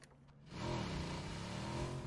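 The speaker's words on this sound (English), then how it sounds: "So I hear a car coming now." A car engine in a shooter video game grows louder as the vehicle approaches, swelling from quiet into a steady, loud revving drone that holds to the end.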